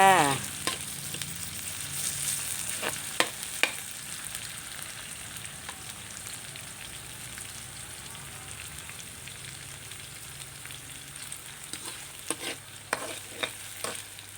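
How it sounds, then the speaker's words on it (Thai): Palo, a five-spice stew, is stirred in a frying pan, with a continuous soft sizzle broken by irregular scraping clicks of the utensil, busier at the start and the end. "คนไปให้มันเข้มเข้มค่ะ"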